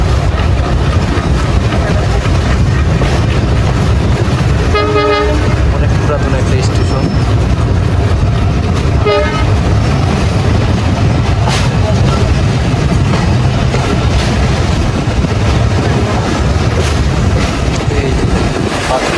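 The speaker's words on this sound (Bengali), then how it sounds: "এইখানে ট্রেন থামবে" A passenger train rumbles loudly and continuously with heavy engine noise and clattering carriages as it arrives at a rural Bangladeshi station, and a couple of brief horn-like tones cut through partway.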